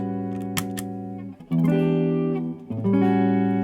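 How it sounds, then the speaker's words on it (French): Electric guitar through an orange boost pedal, boosted driven tone playing sustained notes and chords, bright harmonics ringing out loudly with brief pauses between strums. "On retire la reverb et là on met le boost."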